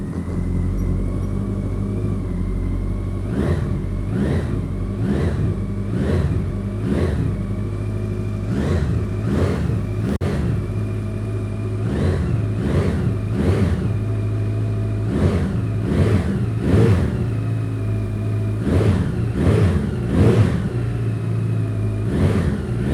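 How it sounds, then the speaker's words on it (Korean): A 2015 Honda CB1100EX motorcycle fitted with an aftermarket Over Racing muffler idles with a deep, low exhaust note, then blips the throttle in a series of sharp rev bursts, loud and close, with no talking. "오버레이싱 머플러의 배기 사운드 한번 들어보고요."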